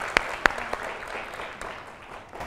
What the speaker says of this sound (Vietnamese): Một tràng pháo tay cho cô ấy là một đoạn nhé mọi người nha.